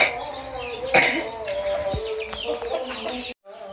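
Chickens on a village farm at dusk as a boy tries to herd them indoors, giving repeated close clucks and short squawks in an irregular pattern, with faint background noise and no speech.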